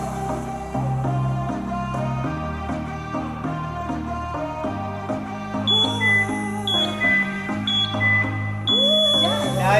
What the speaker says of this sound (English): You will hear 4 beeps at the end, starting with 3 seconds left.